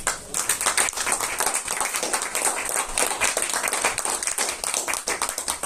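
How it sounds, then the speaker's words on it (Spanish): Applause from the audience at a conference in Osorno, following its first presentation to the public. Brisk, dense clapping at close range continues without a break, loud and even, with no voices heard. "Un aplauso."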